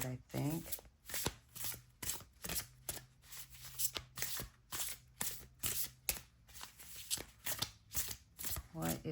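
Tarot cards are shuffled by hand in a steady rhythmic series of crisp riffling bursts, close and fairly quiet, with a low hum underneath.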